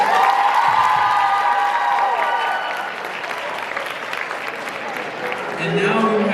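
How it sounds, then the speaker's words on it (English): An audience applauds and cheers after a performance at a Black History Month program, the crowd noise full at first, dipping in the middle and swelling again at the end, with voices mixed in. "Give one more round of applause for Grace Haver"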